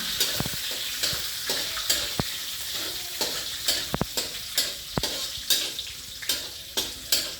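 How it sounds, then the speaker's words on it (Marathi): Grated carrots with cashews and almonds being sautéed in a pan for carrot halwa, a steady soft sizzle broken by regular scraping strokes of a spoon stirring the pan, close up and without speech. "चांगली लाल होईपर्यंत परतून घेऊ।"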